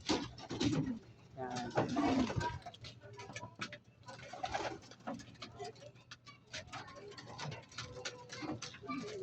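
Racing pigeons coo and flutter close by while being fed a measured grain ration, with soft scattered pecking and patter sounds and a person talking over them throughout.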